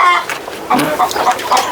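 Chickens cluck in short repeated bursts from a lettuce-bed poultry setup, close and fairly loud, with a few overlapping calls and no talk.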